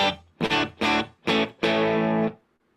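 Electric guitar through an amp with its reverb switched off, played as four short chords and then one longer sustained chord, each cutting off dry with no tail.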